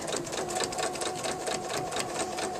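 A sewing machine runs steadily at high speed, chain-piecing quilt block pieces, a continuous fast mechanical whirr and rapid clatter of stitching with no pauses.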